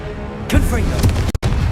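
A Confringo blast spell fires in Hogwarts Legacy, a loud burst followed by a booming impact, with a spoken voice over the effect.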